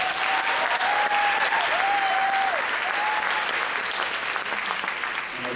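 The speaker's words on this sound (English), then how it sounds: "Let's give him a round of applause." An audience applauds steadily at a middle and high school jazz band concert, a dense sustained wash of clapping with a faint whistle or tone sliding through the first few seconds.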